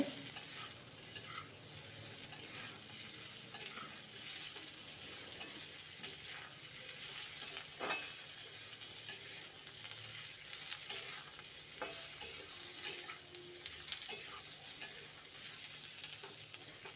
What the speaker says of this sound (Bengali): মিডিয়াম আঁচেই কামরাঙাগুলো ভেজে নেব